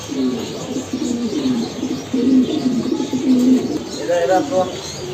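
Pigeons coo in low, repeated throaty phrases close by, with a few brief higher calls near the end, heard alongside background voices at a bird seller's on a rainy day.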